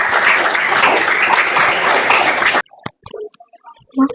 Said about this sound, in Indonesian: Tepuk tangan untuk Feby dan Zahra